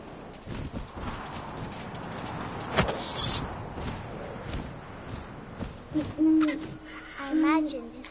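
Owl hooting in the video game What Remains of Edith Finch, a few soft hoots rising late in the scene over a steady bed of wind and ambient game sound, with no talk.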